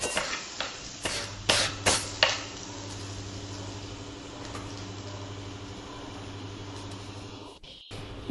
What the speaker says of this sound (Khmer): យើងកូរវា